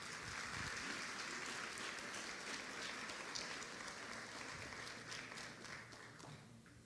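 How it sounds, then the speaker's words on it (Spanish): Audience applause at an education panel on AI and emerging technologies greets the university president and rector: broad, even clapping heard from a distance, holding steady and then slowly thinning out toward the end. "a quien recibimos nuevamente con un fuerte aplauso"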